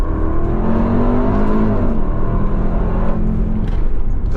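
Heavy two-ton 4x4 engine pulling steadily, a deep continuous drone with a rising whine early on, loud and close with no voices.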